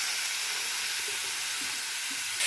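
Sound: ghee and oil sizzling while frying in a wok

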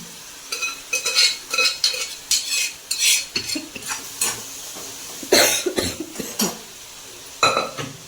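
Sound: stirring kopsha with curry leaves, coriander and chili in pan

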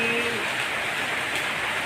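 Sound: rain falling continuously

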